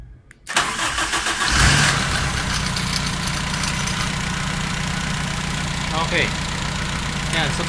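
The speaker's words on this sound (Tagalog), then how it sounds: "Ayan, so pinandar ko na yung makina ko." A car engine with oil spraying out of the oil filler starts up and settles into a steady, loud idle with a low rumble, while a person talks intermittently nearby.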